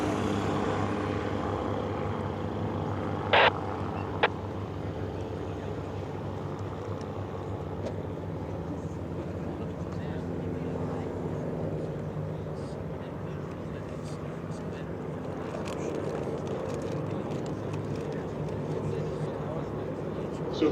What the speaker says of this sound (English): you see a group of 4 L-17s and then 2 more of those flying behind them